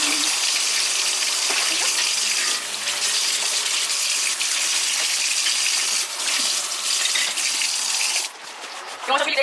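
A sink tap runs steadily in a home kitchen during a cleaning job, a loud continuous gush of water that lasts throughout with brief dips in flow near the end.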